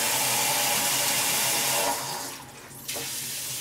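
Water runs steadily from a sink tap in Guangzhou, China, a close, strong hissing gush that dips briefly and then resumes at full flow.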